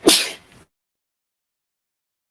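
A single sharp sneeze, close and loud, bursting out at the very start and then cut off into silence.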